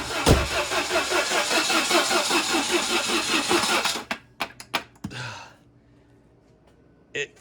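A classic Saab, fitted with a new starter and coil, cranks with a fast rhythmic churning for about four seconds, then fires briefly with a few sharp bursts before falling quiet.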